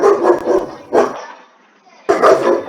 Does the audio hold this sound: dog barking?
yes